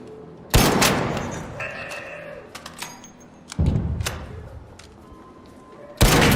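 Turrets in a video game fire in sharp broadband bursts: a loud shot near the start, another mid-clip and a third at the end, with smaller clicks, tonal game effects and faint background sounds in between.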